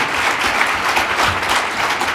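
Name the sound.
audience applauding entrepreneurs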